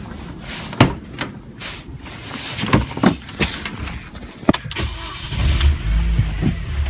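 A 2005 Mini Cooper S R53 engine cranks and catches after suspension bushing repair, a few knocks and clunks leading to the engine firing and settling into a low idle near the end.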